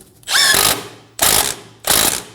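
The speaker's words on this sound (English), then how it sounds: "Using a 19mm socket, snug the nut down." A ratchet with a 19mm socket snugging down the outer tie rod nut on a 2008-2015 Scion xB, heard as three loud, close bursts of rapid clicking separated by short gaps.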